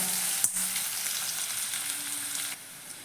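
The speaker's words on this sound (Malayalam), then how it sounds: "ഈ സവാള നമുക്ക് ജസ്റ്റ് ഒന്ന് വാട്ടിയെടുക്കാം" Onions sautéing in a pan sizzle steadily and close by, with a brief stirring clatter near the start and the frying hiss easing slightly toward the end.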